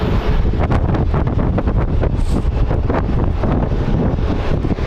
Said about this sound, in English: it never used to be this windy